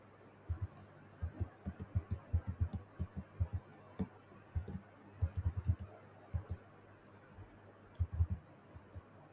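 Bursts of light keyboard clicking as credentials are typed on a computer during an Entra ID hybrid join setup, short flurries of keystrokes separated by brief pauses in a quiet room.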